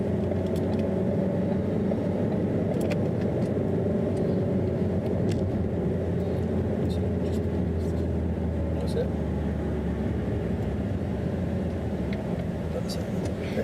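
Car engine pulling steadily in second gear on a road during a driving lesson, a continuous low rumble that holds even and fairly loud throughout, with faint ticks above it.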